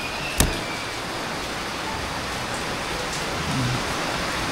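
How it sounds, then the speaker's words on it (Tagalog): Heavy rain falls as a constant hiss with one sharp knock near the start, steady throughout and without talk. "Oh, lumakas na yung ulan."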